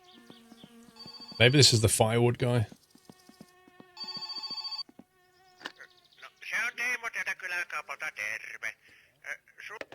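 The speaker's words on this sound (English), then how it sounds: "Oh, phone's gone." In the video game My Summer Car, a phone rings as a short burst of electronic tones midway through. Someone talks before and after the ring, and buzzing game sounds fill the later part.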